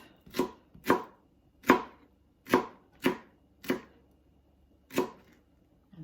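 A knife chops food on a cutting board for soup, giving seven crisp, separate knocks at an uneven, unhurried pace. The chopping is close and there is no talk.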